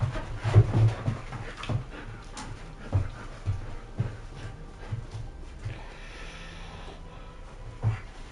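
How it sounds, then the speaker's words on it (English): A dog plays tug with a person indoors, making scratchy scuffling, panting and soft snorts in irregular bursts over low background sound. "any scratchy type noises you hear are the dog and Jason playing tug"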